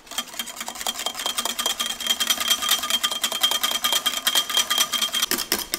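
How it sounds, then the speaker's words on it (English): A whisk beats cream in a pot until soft peaks form, producing rapid, even metallic scraping strokes that sound close and continuous throughout. "So I'm going to put in some cream. About half the pot. And then I'm going to whisk this together."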